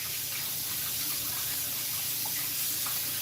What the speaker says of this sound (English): wash your hands